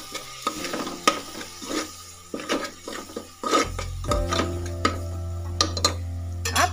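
Masala being stirred into softened tomatoes in a pan for green chilli biryani, with repeated scraping clinks of a spoon against the pan over a low hum that steps up partway through, no talking.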